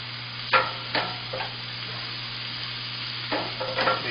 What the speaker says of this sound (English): Make sure they've got a good sear going on them.